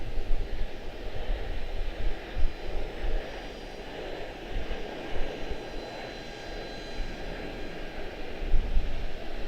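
An airliner takes off at Charlotte-Douglas International, a low rumbling engine roar with gusty, wind-buffeted swells rising and falling throughout, heard at a distance without talk.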